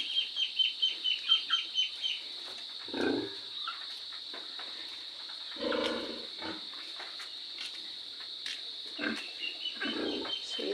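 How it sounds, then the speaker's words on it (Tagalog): Hens cluck in low, irregular bursts. A steady high-pitched hum runs throughout, and quick chirpy calls come early on. "mga inahin"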